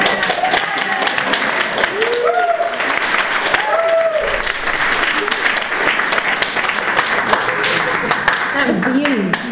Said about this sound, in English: Slow hand clap. We'll go with that.